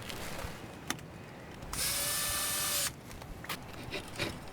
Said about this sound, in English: screwing them in place through the back of the rails